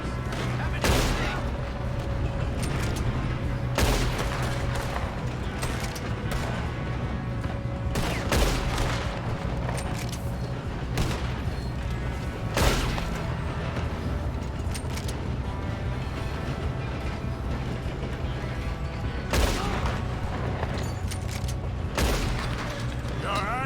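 Gunfire during a train robbery in Red Dead Redemption 2: repeated sharp gunshots and fusillades scattered across a busy mechanical backdrop of moving train and rumble, loud and close, with voices speaking at times.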